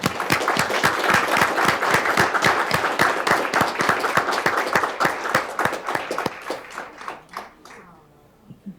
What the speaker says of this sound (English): Can I get a round of applause for him?